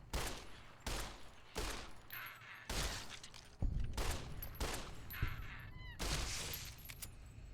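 Gunfire in Fallout New Vegas rings out in about eight sharp, loud shots at uneven intervals, each with a ringing decay, as little geckos are shot in the Goodsprings area.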